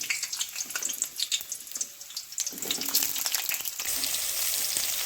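Potol (pointed gourd) fry in mustard oil in a kadai, giving a steady close sizzle and crackle that swells louder partway through, with no talking.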